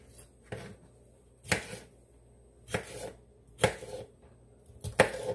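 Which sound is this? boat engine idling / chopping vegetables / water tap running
chopping vegetables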